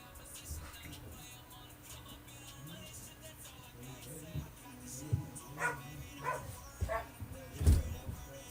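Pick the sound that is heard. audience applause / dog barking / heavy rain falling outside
dog barking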